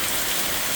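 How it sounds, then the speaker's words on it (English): Steady rain falling outside during a storm, a dense, even hiss that holds at a constant level for under a second, with no voices and no thunder. "it's raining outside"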